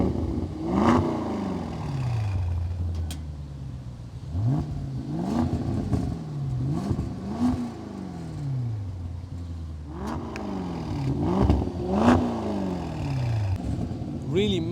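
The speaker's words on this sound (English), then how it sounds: "these quad tailpipes also produce a really nice sound" A Manhart SV650 tuned Range Rover Sport P530 with 650 hp and quad tailpipes revs repeatedly, each blip rising sharply then falling, loud and close over several cycles, with someone talking between revs.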